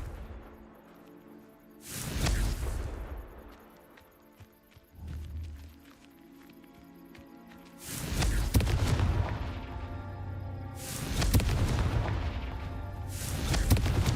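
The Confringo spell going off in Hogwarts Legacy on PS5 gives several loud, deep booming explosions, each with a rumbling tail. One comes near the start and a cluster follows later.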